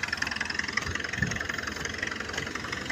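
A vehicle engine runs steadily as it is driven slowly, a rough mid-pitched rumble with a rapid pulsing throb, close and constant without speech.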